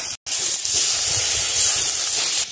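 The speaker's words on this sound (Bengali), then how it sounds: "এবার জল দিয়ে দিচ্ছি।" Water poured into hot spiced oil with cumin, coriander and tomato for a pomfret fish curry sets off a loud, steady steam hiss that runs close and continuous, with one brief break near the start.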